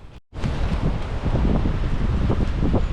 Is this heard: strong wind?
yes